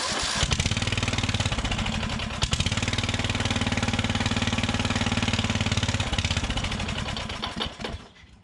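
Old riding mower engine that sat unused for years, choke freshly freed, cranking and then running with a rough, loud, steady putter for several seconds before cutting out near the end.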